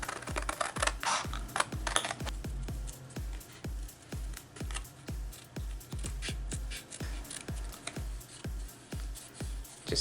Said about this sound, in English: So now I can cut this frame out and it'll still be one unit.